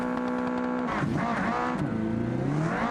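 A racing car engine in a video game revs loudly and continuously, its pitch dipping and climbing as it accelerates, with a steady synthetic quality.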